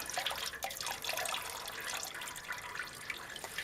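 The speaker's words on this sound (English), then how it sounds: "Note how much water is coming out, or how much antifreeze." Antifreeze coolant draining out of a Ford Focus 1.5 TDCi Mk3 makes a steady, faint splashing trickle of liquid throughout, with no voices.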